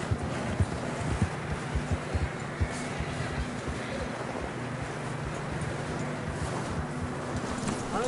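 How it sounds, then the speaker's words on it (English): Horse hooves clip-clopping in Red Dead Redemption 2, a steady faint rhythm of hoofbeats under low wind and rumbling ambience, with a low hum in the background. "I don't think we can go much further on the horses."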